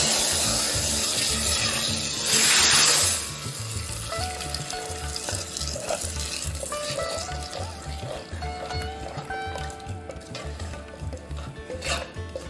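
Hot tempering with fenugreek seeds poured into a lemon curry bursts into a loud sizzle, then settles into softer frying crackle and repeated stirring scrapes in the pan.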